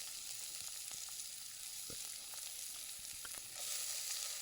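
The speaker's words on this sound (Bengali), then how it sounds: "এর মধ্যে এবার পেঁয়াজ কুচি দিয়ে দেবো" Chopped onions sizzle in oil in a pan with ginger and garlic for a chicken momo filling. The hiss is even and continuous, with a few faint taps of a utensil, and it grows slightly louder near the end.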